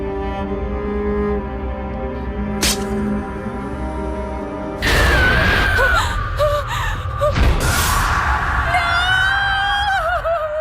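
A woman lets out a sharp gasp and scream after spotting a cockroach in a bachelor's house, a sudden loud outburst cutting through a tense horror-film score.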